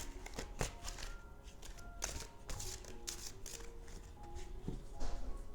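Oversized tree-of-life oracle cards being shuffled by hand, with soft, quiet riffling and tapping sounds coming in irregular bursts close by.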